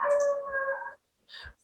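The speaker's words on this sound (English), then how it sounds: "still the dog barking sound is there" A dog gives a sustained, whining, howl-like call of about a second, then a brief second yelp after a short pause, at moderate level somewhere in the background.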